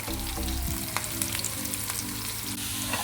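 Pieces of bitter gourd frying in oil in a pan, a steady loud sizzle with crackling pops and occasional clinks throughout, no voices.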